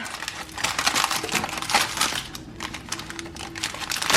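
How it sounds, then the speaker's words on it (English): Crisp snipping and crinkling as scissors cut plastic cookie dough packaging, a dense run of small cuts and rustles lasting several seconds, close up with no talking. "I have my handy dandy scissors."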